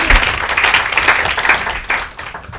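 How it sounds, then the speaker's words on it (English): A room audience claps for four students, a dense, steady wash of applause that fades and thins toward the end. "I think you should give them a round of applause"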